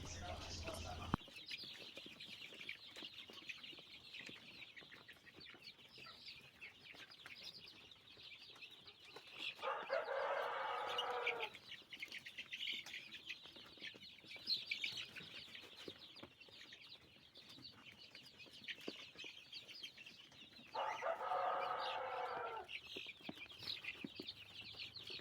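BV380 chickens and other poultry at a farm cluck and call steadily throughout, with two louder, fuller bursts of crowing or squawking standing out near the middle and end.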